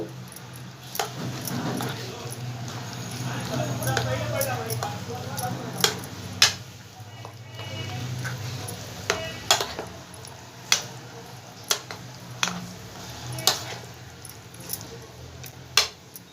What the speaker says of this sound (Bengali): এবার সবগুলো উপকরণ আমি একসাথে খুব ভালো করে একটু মেখে নেব।